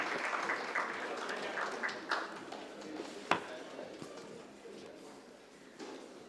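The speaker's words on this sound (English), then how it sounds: "Can we please have a huge round of applause," At the inaugural session of an auto retail conclave, a conference audience claps with dense, lively applause that gradually thins and fades over several seconds.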